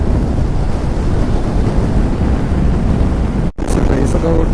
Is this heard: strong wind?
yes